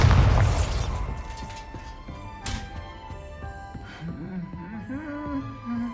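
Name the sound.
Bombarda explosion spell from the video game Hogwarts Legacy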